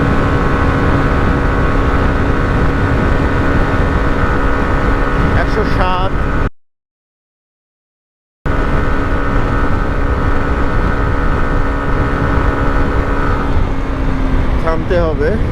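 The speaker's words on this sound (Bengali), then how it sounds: "বাইকটার টপ স্পিড তোলার সময় বা টপ স্পিডে যখন রাইড করি" A Hero Xtreme 125R motorcycle runs near its top speed of about 107, giving a steady, high engine drone under heavy wind rush with a brief full dropout midway.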